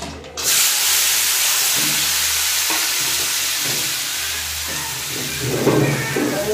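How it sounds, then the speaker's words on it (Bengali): Pieces of kohlrabi dropped into hot oil left over from frying fish, hissing into a loud, steady sizzle that continues with the soft scrape of stirring throughout. "এখন মাছ ভাজার তেলের মধ্যে ওলকপিগুলো ভেজে নেব।"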